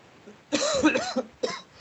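A single harsh cough followed by a couple of smaller throat-clearing coughs, close and fairly loud, in a quiet room.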